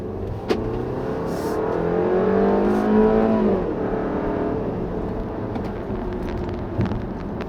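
A 2016 Audi Q3 compact SUV accelerates on the road, its engine note rising in pitch through the gears, dropping at a shift, then settling into steady road and tire noise, heard close from inside or near the car.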